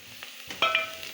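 Onions browning in a pan while African vegetables are being prepared, a brief, soft sizzle with a few light stirring scrapes, heard close by and quiet.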